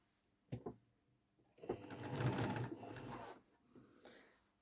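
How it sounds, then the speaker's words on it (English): A sewing machine stitches quilt pieces in short bursts: a brief tap, then a longer run of close mechanical whirring and clatter, with quiet handling sounds between. "So I'm going to flip this on and sew the other side."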